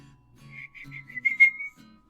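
A person whistles a short series of high, clear notes, several brief tones then a longer sustained one, close by, with a faint low hum underneath.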